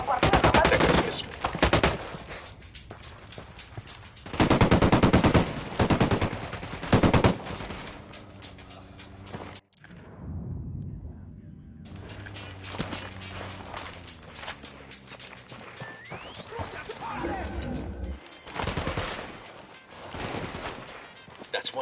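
Bursts of automatic rifle fire in a Ghost Recon Wildlands shootout come in loud volleys separated by quieter stretches, with a spoken voice and scattered rapid shots in between.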